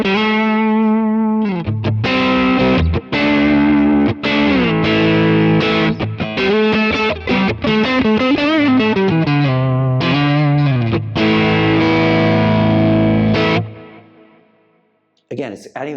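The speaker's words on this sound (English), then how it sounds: "it's adding that kind of top-end Marshall sparkle to this overdrive sound" Electric guitar played through a Lekato Blues Breaker-style overdrive pedal set with low gain and raised tone and volume, loud crunchy chords and sustained notes ringing close up, followed by a brief pause and a final strum.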